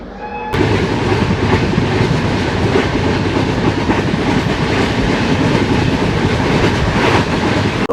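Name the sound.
passenger train at a railway station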